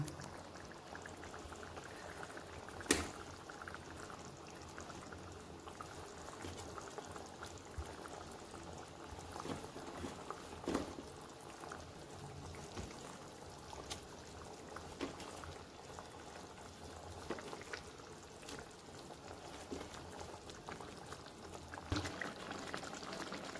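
Rohu fish curry gravy simmers in a pan to thicken, a steady low bubbling and popping that carries on evenly throughout with scattered sharper pops, close and quiet, with no talk.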